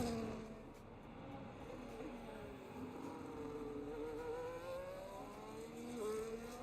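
Ferrari race car in a racing video game at a Japan circuit: a faint, distant engine whine rising and falling through gear changes and corners, steady and continuous with no talking.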